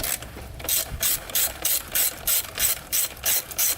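A ratchet wrench works a 12 mm bolt loose from the frame of a Suzuki RM125 motocross bike, its clicking pawl sounding in about eight quick, evenly spaced bursts, close and clear, with no talk.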